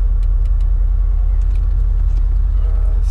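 A Mercedes SL63 AMG idles at a dragstrip with a deep, steady engine rumble. Faint voices and light background noise sit underneath the drone.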